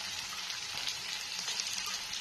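Onions frying in oil for a chicken gravy, a steady soft hiss and sizzle with light crackle, fairly quiet and continuous with no talking.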